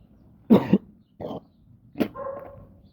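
A dog gives a few sharp, close barks in a quiet room, three separate bursts spaced about half a second to a second apart, with no talking over them.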